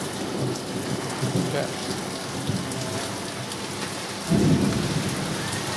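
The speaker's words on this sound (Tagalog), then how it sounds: "Ang guys, rinig nyo. Lakas ng kidlat eh." Steady heavy rain pours throughout, with deep rumbles of thunder rolling in, the loudest burst near the end.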